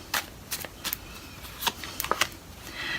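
Tarot cards being shuffled for a love reading, a quick run of crisp riffling flicks and soft slaps, close and fairly quiet, with no talking.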